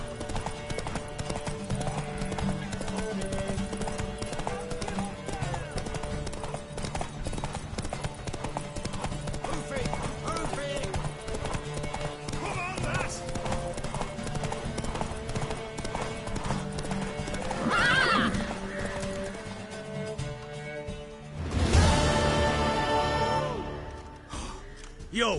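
A horse in The Witcher 3 gallops with a steady clip-clop of hooves under game music, then gives a loud neigh near the end.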